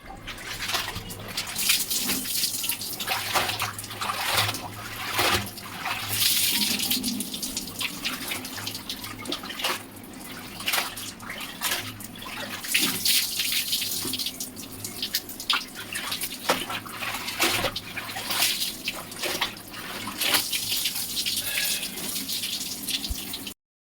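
Tap water runs continuously with splashing and dripping while clothes are washed by hand, a close, steady flow with small irregular bursts.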